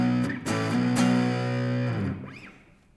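An electric guitar run through an overdrive pedal rings out in sustained distorted chords with a gritty breakup, loud and close, then fades as the notes decay, with no talking.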